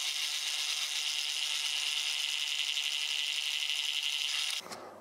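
A power drill or driver runs a screw through mitered wooden table aprons into a tabletop, a steady high whirring grind that holds for over four seconds before cutting off abruptly.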